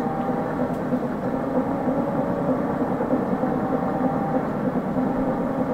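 Big-wheeled truck rolling along a road in Fortnite, a steady low engine rumble and tire drone that holds constant and fairly loud, with no talk over it.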